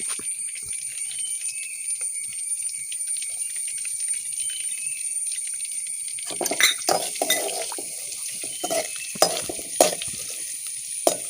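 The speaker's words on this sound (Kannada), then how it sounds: "ಜೀರಿಗೆಯನ್ನು ಸ್ವಲ್ಪ ಫ್ರೈ ಮಾಡಿಕೊಳ್ಬೇಕು." Ginger and cumin sizzling in a frying pan for tomato soup, a quiet steady hiss for about six seconds, then louder crackles and stirring clinks from a utensil against the pan.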